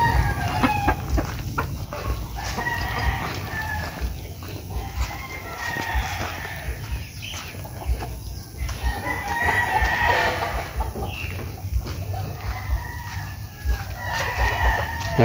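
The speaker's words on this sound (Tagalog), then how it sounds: "Mga manok ni Boss Choy." Several roosters and young stags crow again and again among a flock of clucking chickens at a farm. The loud crows overlap one another over a constant background hum.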